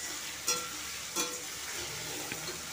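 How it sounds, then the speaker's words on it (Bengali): Chopped potatoes fry in hot oil in a home kitchen, a soft steady sizzle with a couple of brief stirring clinks, close and quiet, no voices. "আলুটাকে আমি একটু ভালো করে ভেজে নেব।"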